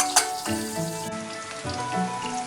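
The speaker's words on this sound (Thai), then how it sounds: "ก็เกียกระเทียมกับขิงให้หอมก่อนนะฮะ" Garlic and ginger frying in a little oil over low heat for fish boiled with ginger, a steady close sizzle with crackling pops and a clink of a utensil at the start.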